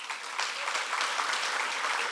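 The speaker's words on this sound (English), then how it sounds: "Let's have a round of applause in honor of UNA Athletic Hall of Famer Marcus Keys." Steady audience applause fills a hall at a university athletic hall of fame induction ceremony, broad and sustained for the whole stretch with no voices over it.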